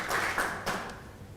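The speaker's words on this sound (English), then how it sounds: "Can we give him a loud hand clap?" Applause rises at a Rotary Club of Kololo installation ceremony: a soft, dense wash of many hands clapping with no talk over it, a few stronger bursts near the start, then slowly fading.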